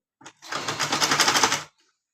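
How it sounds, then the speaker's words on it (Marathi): Sewing machine stitching the hem of a blouse, running in one steady, fairly loud burst of rapid whirring after a brief tap of the needle, then stopping cleanly. "माझा आता गोटची शिलाई मारण्याचा एंडिंग कसं आलेला आहे"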